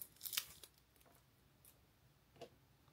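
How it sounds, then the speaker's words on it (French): Adhesive tape peeled off skin after shaping the eyebrows, a quiet quick tearing rip followed by faint crinkles and a second soft pull. "On retire le scotch."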